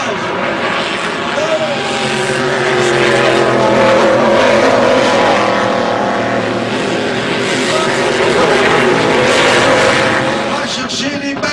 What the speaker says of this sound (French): Et Patrick Howard qui est plein gaz.